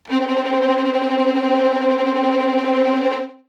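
A software first-violin section plays a steady held chord with a fine, rapid tremolo shimmer, loud and close, ending with a short fade.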